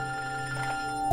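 A telephone rings during a call, a steady tonal ring held faintly under a low hum, with no voices and a brief bump at the end.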